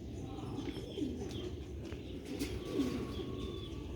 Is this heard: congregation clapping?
no